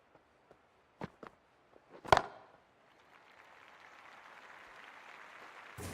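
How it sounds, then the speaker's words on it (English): At a cricket match between India and South Africa, a few sharp knocks and claps give way to a swelling wash of stadium crowd noise that holds steady, moderately distant. "already the crowd is up and about."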